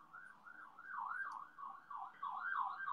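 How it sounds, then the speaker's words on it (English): A wailing emergency siren rises and falls repeatedly, fairly faint and distant, over a low background rumble. "Oh, sirens! What's going on?"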